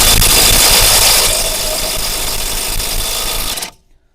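An ELTOS cordless impact wrench loosens a bolt with a loud, close, continuous buzzing rattle that eases slightly after the first second and then cuts off abruptly near the end, followed by silence.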